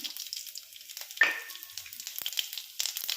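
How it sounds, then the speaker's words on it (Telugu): Chana dal, mustard seeds, urad dal, cumin and dried red chillies crackle and sizzle in hot oil for tempering, a steady fizzing hiss with a sharper pop partway through, close and moderately loud. "తాలింపు పచ్చెనపప్పు ఆవాలు మినపప్పు జీలకర్ర ఎండుమిర్చి వేస్తున్నాను"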